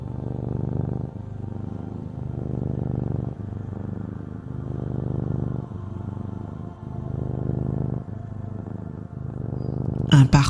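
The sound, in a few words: cat purring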